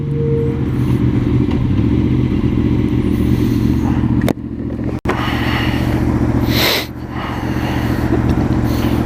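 A sport bike's engine running while riding, a steady loud droning hum with wind rush, a couple of sharp clicks and a brief dip in the drone, no voices.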